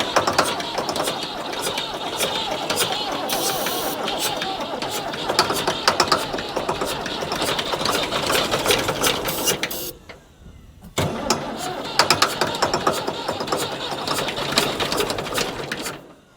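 An old Ford tractor engine cranks over and over with a rapid mechanical chugging, a brief pause midway before cranking resumes, loud and close.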